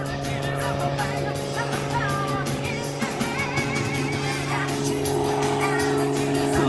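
An ethanol-powered Fagen MX2 aerobatic aircraft with a Hartzell propeller powers up at an air show, its engine a loud, steady droning hum that holds throughout while an announcer talks over it.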